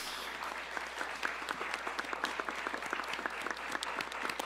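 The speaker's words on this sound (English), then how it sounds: "Let's give a round of applause for all of our candidates." Audience at a town select board candidate forum gives a round of applause for the candidates, many hands clapping in a steady, moderately distant patter that holds throughout.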